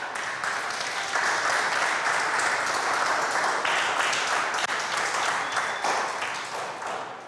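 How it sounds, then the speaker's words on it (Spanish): A church congregation applauds together in a long, even burst of many hands clapping, holding a dense steady roar that swells just after the start and tapers near the end. "Dale un aplauso al Señor."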